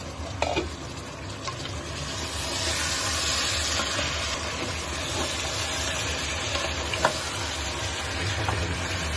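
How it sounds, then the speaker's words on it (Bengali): Mutton trotters sautéing on high heat in a pan, a steady loud sizzle and frying hiss running throughout with occasional stirring scrapes and clicks. "এরপর হাই হিটে পায়াগুলি কষিয়ে নিই।"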